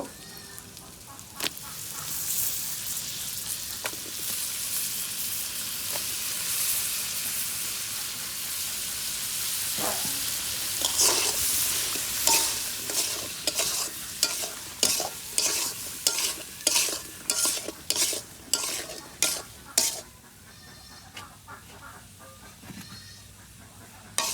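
Tomato and pointed gourd fry with browned onions in a pan, a soft sizzle under a long run of sharp, rhythmic scraping strokes from a spatula stirring, growing louder and faster toward the end.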